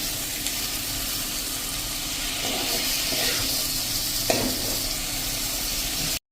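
Okra curry with its spice paste sizzling in a pan over a low flame and being stirred, a steady close frying hiss with a few soft scraping strokes and no talk.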